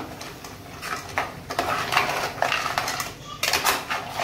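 Crab masala made with fresh creek crabs is stirred in a metal pot over lowered heat, giving irregular scraping and clinking of spoon against metal with soft background noise and faint voices.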